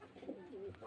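A domestic pigeon gives a brief soft coo, faint and close, alone.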